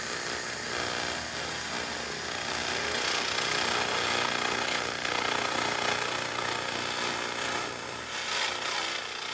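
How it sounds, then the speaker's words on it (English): A 2000 W continuous wave laser cleaning heavy rust off a Toyota frame, giving a loud, continuous harsh buzzing hiss that holds steady throughout with slight swells in intensity. "You can hear the difference in the sound of the laser with the 30 Hz frequency setting."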